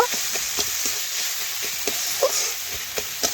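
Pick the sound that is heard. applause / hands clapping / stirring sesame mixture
stirring sesame mixture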